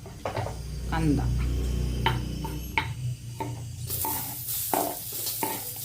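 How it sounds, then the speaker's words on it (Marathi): Onion drops into a hot pan of oil after garlic and ginger have been roasted, with stirring clinks and scrapes at first, then a louder sizzle bursting up partway through. "आता आपण कांदा टाकणार आहे भाजायला."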